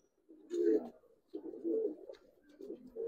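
Indian pigeons, including a red-tailed pair, give low, throaty coos nearby in three rolling bursts with brief pauses between them.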